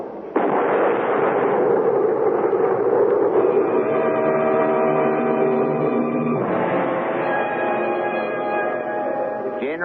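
A firing squad's volley in a radio drama, heard as one loud burst that rolls into a long, sustained roar and then a second surge, filling the whole space with no voices.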